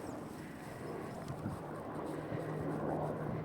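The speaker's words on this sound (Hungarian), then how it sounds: "Kivéve a helikoptert." Helicopter flying over a quiet mountain valley with a hotel below, a faint, distant throb and hum sitting low under soft wind noise.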